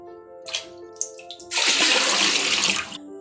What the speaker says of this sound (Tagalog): Kailangan i-flush natin ito sa CR.